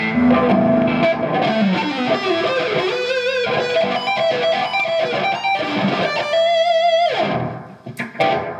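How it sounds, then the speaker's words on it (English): A distorted electric guitar, a custom-built LP Custom on its neck pickup, plays a lead line with sustained, warm notes and bends, loud and close, with no voices. "Some lead on the neck distortion."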